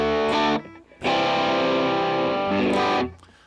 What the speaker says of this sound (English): And with the distortion on here, get a little bit more.